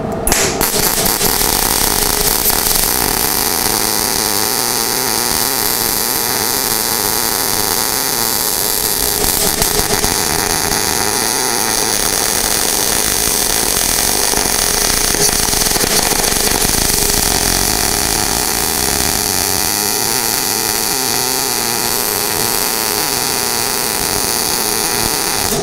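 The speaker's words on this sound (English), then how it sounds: "did you hear the change in the sound of the weld itself?" An inverter MIG welder lays a continuous bead with the wire feed held fixed while the voltage is turned, giving a steady, loud crackling buzz that runs unbroken throughout with no talk.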